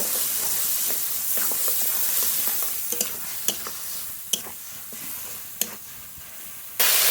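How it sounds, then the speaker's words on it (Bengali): A spice paste of ginger, garlic, cumin, chili, green chili, salt and turmeric fries and is stirred in a pan, a steady hissing sizzle broken by occasional scraping clinks of the spoon, near and alone. "কাঁচা লঙ্কা বাটা লবণ হলুদ গুঁড়ো ভালো করে মশলা কষিয়ে নেব"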